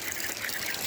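Water leaking from hose fittings at an outdoor spigot, a steady hissing spray and trickle that runs evenly and close for under a second, with no talk.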